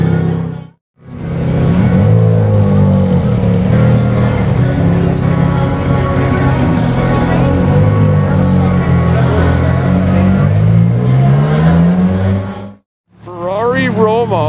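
Loud, close straight-piped Ferrari F430 engine holding a raw, rising exhaust roar for about ten seconds after a short burst, then cutting off and returning with a quick rev; voices are mixed in.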